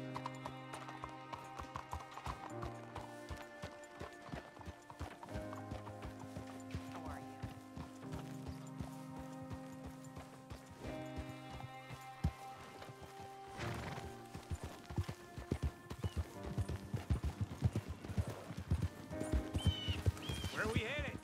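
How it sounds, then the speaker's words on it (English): Horse hooves clip-clop steadily throughout a Red Dead Redemption 2 ride under game music, growing louder and busier toward the end with occasional neighs. "You got a horse? Get on it."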